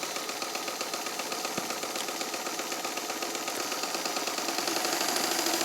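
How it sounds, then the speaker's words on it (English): A vintage all-steel Brother Atlas sewing machine, restored and painted pink, stitches at a steady fast pace, its rapid even mechanical chatter and hum continuous and close with no talk. "I've been doing a good bit of stitching already to testing the machine"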